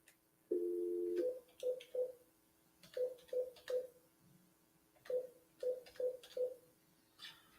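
Telephone dialing tones: a sustained dial tone followed by a dozen short touch-tone beeps in irregular groups, clean and fairly quiet with no talking.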